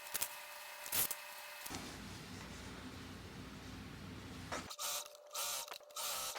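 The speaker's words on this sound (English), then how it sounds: "I'm actually going to quilt some lines onto these pattern pieces before we move forward" A sewing machine runs steadily as it quilts parallel lines half an inch apart onto fabric pattern pieces for a bag, a continuous mechanical whir bracketed by brief clicks and handling noise at start and end, close up with no talk.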